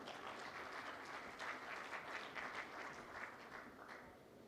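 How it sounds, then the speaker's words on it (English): Steady applause from a conference audience at a maritime week event, following an introduction of an ambassador's welcome address; fairly faint and continuous for several seconds with no talk over it. "Let's give her a big round of applause."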